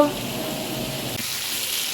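Chicken pieces and potatoes frying in a pan for a curry, a steady close sizzle and hiss with faint stirring scrapes, continuous for the whole stretch.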